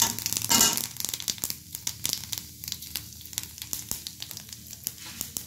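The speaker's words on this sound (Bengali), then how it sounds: "কালো জিরে ফোড়ন দিয়ে দেব" Black cumin seeds crackling in a little hot oil for tempering a Bengali fish curry, a sharp burst of sizzle at first, then scattered close pops and crackles.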